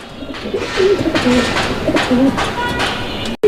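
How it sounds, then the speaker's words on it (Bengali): Several pigeons coo in low, throaty bursts against a busy background of chatter and rustling at a pigeon farm, the calls repeating every second or so. "আপনারা কবুতর দেখেন, ঠিক আছে, একদম সুস্থ সবল কবুতর"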